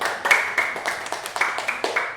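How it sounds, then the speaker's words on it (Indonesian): Small classroom group claps for the first student team, a thin scattering of hand claps with a few sharper hits standing out, moderately close and with no talking. "Beri tepuk tangan buat kelompok 1."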